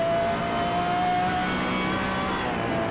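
A supercar engine in the Assetto Corsa racing game holds a steady, loud mid-pitched drone with a faint rising whine, running continuously without a pause or any voice.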